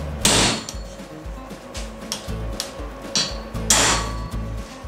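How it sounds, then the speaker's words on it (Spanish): A small hammer strikes a center punch to mark a spot for drilling in a workshop, giving a few sharp taps, the loudest near the start and another near the end, over quiet background clatter. "Vamos a hacer un pequeño golpe."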